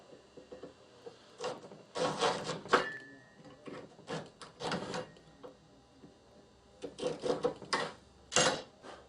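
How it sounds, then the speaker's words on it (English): A hand saw cuts the tip off a wooden peg for an Indian stringed instrument, giving soft, irregular rasping strokes in short bursts with pauses between, fairly quiet and close. "turn the peg, and that'll give us a good mark for where to cut that tip off. Again with the saw."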